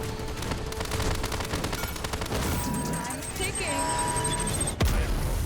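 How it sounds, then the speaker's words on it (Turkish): Bomb blast and weapon fire in the game Paladins, a busy stretch of rapid shots and booms capped by a sharp loud burst near the end, with talk over the action. "Bomba harbiden sağlam etki yaptı ha."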